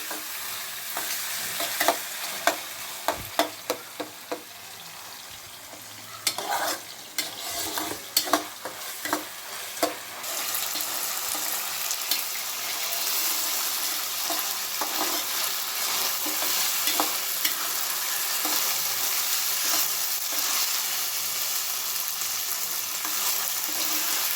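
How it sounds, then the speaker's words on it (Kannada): Spices and ingredients for bisi bele bath fry in a pan, with a constant close sizzle and repeated sharp scrapes and taps of a stirring spoon early on, then steady frying alone. "ಅದು ಹಸಿ ವಾಸನೆ ಎಲ್ಲ ಹೋಗೋವರೆಗೂ ಫ್ರೈ ಮಾಡ್ಕೋಬೇಕಾಗುತ್ತೆ"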